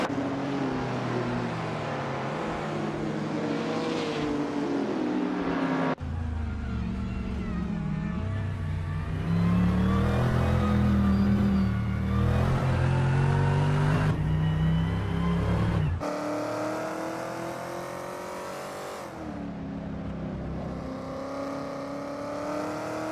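Racing game cars, including a 1989 TVR Tuscan, rev and accelerate with a loud, steady engine drone. The pitch sweeps up and shifts between gears in several segments, with no voices.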